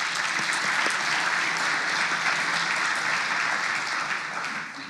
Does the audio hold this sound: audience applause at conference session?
yes